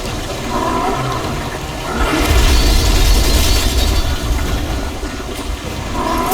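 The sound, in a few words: slime blower spraying slime in the video game Ghostbusters Remastered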